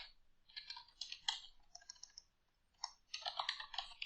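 Quiet, close typing on a computer keyboard comes in irregular bursts of rapid soft key clicks, broken by a short pause, with no talk.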